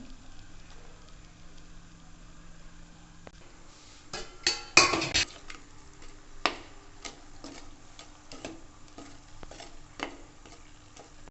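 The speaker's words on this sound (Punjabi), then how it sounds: "ਫਰਾਈ ਕਰਕੇ ਨਾਲ ਦੀ ਨਾਲ ਆਪਾਂ ਚਾਸ਼ਨੀ 'ਚ ਡਿਪ ਕਰਾਂਗੇ" Jalebis frying in hot oil and then dipped into sugar syrup, a soft continuous sizzle with scattered ladle clinks and taps, a louder clattering burst midway.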